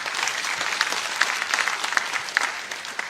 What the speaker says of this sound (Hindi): कलिता जी के लिए ताली बजाओ जरा